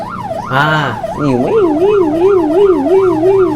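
An ambulance siren wails loudly and close by on a Malaysian road, its pitch sweeping up and down in a steady repeating cycle over low traffic rumble.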